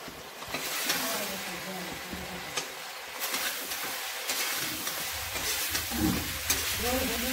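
Fish frying in a tomato spice masala in a village kitchen, with a steady close sizzle, scraping stirs and occasional clatter running throughout.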